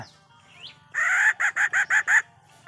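A blown decoy call imitates a female jungle fowl: one longer note followed by five short, evenly spaced clucking bursts, loud and close with no talk.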